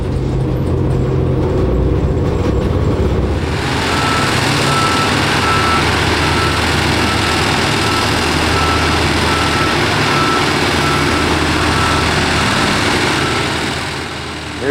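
Truck at an Appalachian coal mine pit, a loud steady engine rumble with reversing beeps, heavy machinery noise filling the scene close by.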